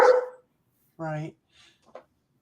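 A dog barks once sharply, with a brief burst of sound just before it and a few soft, short noises after.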